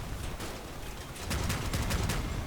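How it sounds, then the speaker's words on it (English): Missile fire in the vehicle combat game Crossout, a dense loud barrage of overlapping explosive shots and bursts that grows heavier in the second half, with no talk. "random missile shots"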